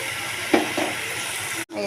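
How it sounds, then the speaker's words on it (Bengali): Yogurt poured into a prawn curry (doi chingri) in a hot pan, a steady broad sizzle and hiss with a couple of soft splashes near the middle, close, and a brief drop-out near the end. "এবারে এই যে দইটা সম্পূর্ণ ঢেলে দেবো।"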